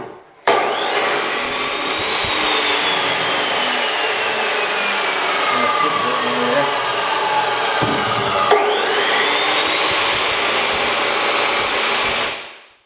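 A power saw cuts through steel plate meant as ballast for a Kubota BX tractor, a loud sustained grinding rasp lasting about twelve seconds with a brief shift midway, close and unaccompanied by speech.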